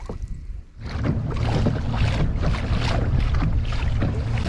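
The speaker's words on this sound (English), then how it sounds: "Wind is still pretty bad" Strong wind buffets across a lake during summer bass fishing at Lake Sonoma, giving a loud, steady rumble of gusts and surging water noise close to the microphone, with no talking.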